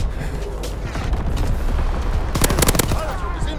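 Call of Duty WW2 gunfire in a multiplayer flag match: dense bursts of rapid shots, with a loud cluster of cracks near the end, running under a constant bed of game noise and a player talking.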